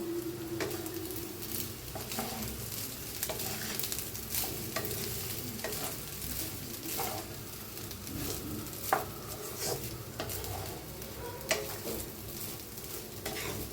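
Fresh coriander being stirred into raw mango rice in a pan, repeated scraping and stirring strokes with light clinks against the pot, close and steady with no talk.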